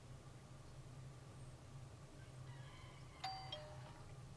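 A brief bell-like ding rings out near the end, a short bright tone over a steady low hum and faint background noise.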